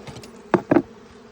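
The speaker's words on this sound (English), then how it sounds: "You can see there's some bee activity in there, a little bit, not much" Honeybees in a hive that has just been opened for a split, heard as two short, loud buzzing swells against a quiet, low background.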